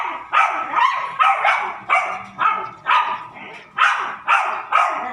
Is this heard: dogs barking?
yes